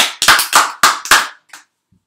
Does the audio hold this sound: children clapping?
yes